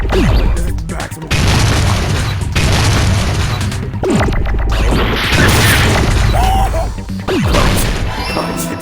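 A loud, close explosion in a video game, a heavy crashing boom with a dense, roaring blast that fills the scene and stays intense, broken by brief gaps and further bursts.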